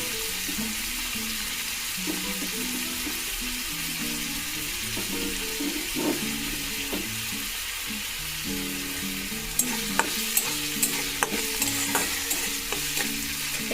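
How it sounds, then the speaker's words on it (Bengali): Tomatoes and green chillies for egg bhurji fry in a pan with a steady close sizzle, while a utensil stirs and scrapes in repeated taps that grow sharper and more frequent near the end. "টমেটোগুলো দিয়ে ভালো করে নেড়ে নিচ্ছি। এর মধ্যে কাঁচা লঙ্কাগুলোও দিয়ে দেব।"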